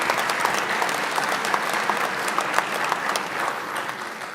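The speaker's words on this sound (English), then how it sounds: "Please give her a round of applause" Steady, full applause from a graduation ceremony audience fills the hall, an unbroken wash of many hands clapping at close range for the pianist.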